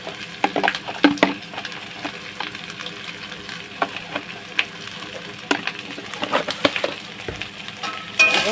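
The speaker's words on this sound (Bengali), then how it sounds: "তারপরে দিচ্ছি কিন্তু নুন" Ground cumin and salt are stir-fried in a pan: a soft, continuous sizzle runs under irregular scraping and tapping strokes of a spatula, close and moderately loud, with no talking.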